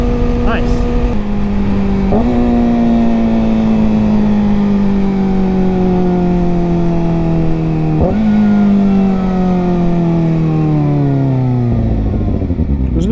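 Kawasaki ZX-4RR 400 cc motorcycle fitted with a different exhaust, revving loud and close with a high rising wail, sharp gear-change dips and a long falling pitch as it pulls away, with people talking over it.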